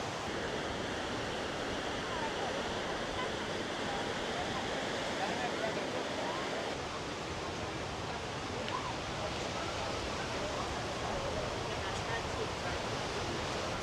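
Sea waves wash in steadily at receding tide beside Tanah Lot temple in Bali, a broad continuous surf roar with wind noise, and a voice talks quietly over it.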